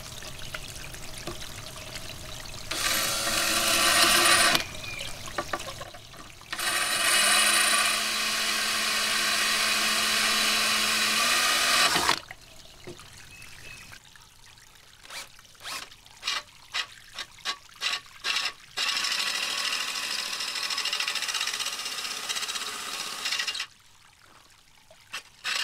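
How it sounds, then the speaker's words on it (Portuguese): A power drill bores a centre guide hole in porcelain tile, whirring loudly in long sustained bursts that alternate with a run of short rapid on-off pulses and brief pauses. "Aí eu vou fazer o furo com essa broca aqui no centro para deixar a guia."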